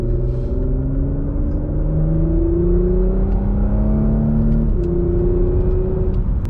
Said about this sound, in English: up to speed on the country road, still in Sports Plus, the exhaust is open